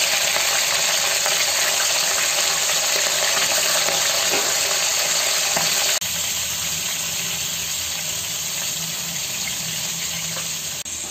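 Chicken pieces frying in hot oil in a karahi with ginger, a steady, loud, dense sizzle that holds throughout and eases slightly partway.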